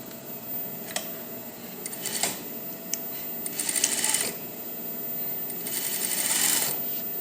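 A sewing machine stitches a dress skirt in short bursts of rapid mechanical whirring, two longer runs near the end, separated by quiet pauses and small clicks, close and fairly soft with no talking.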